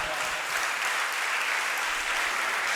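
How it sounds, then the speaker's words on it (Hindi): An audience at a Jain religious camp in Ganj Basoda claps steadily for the children, with dense, continuous applause filling the whole stretch. "आप बच्चों के लिए ताली तो बजा ही रहे हैं"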